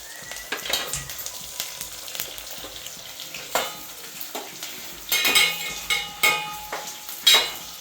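Curry leaves and capsicum frying in a pan for jeedi pappu upma, with a steady sizzle and repeated scrapes of a utensil stirring against the pot, louder bursts of stirring toward the end.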